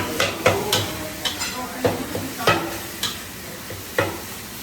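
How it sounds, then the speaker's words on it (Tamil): Prawns and rice are stir-fried in a pan at an outdoor village cooking spot in Cambodia: a sizzling hiss runs throughout, punctuated by about nine sharp scraping clanks of the spatula in an uneven rhythm. "அப்படியே அதை சாப்பாட்டை போட்டு கிண்ட ஆரம்பித்தாப்புல"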